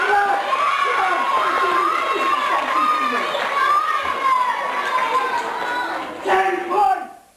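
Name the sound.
children clapping and cheering for the genie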